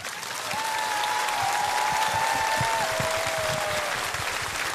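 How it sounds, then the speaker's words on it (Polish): A concert audience claps in sustained, dense applause that holds steady from start to finish, with a faint whistle or tone drifting above the crowd noise. "zapraszamy tymi oklaskami na przyszły rok"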